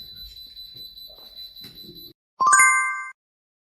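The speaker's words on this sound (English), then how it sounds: "All you have to do is press the button inside the chamber and the alarm will go off." A trapped-personnel alarm inside a cold room chamber sounds once, a bright multi-tone beep of under a second that follows a steady background hum, then cuts to silence.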